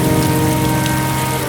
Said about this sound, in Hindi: बारिश लगातार बढ़ती जा रही थी